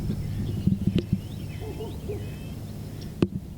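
Spring birdsong outdoors: faint high chirps and short whistled phrases over a low steady hum, with a few sharp clicks and knocks scattered through.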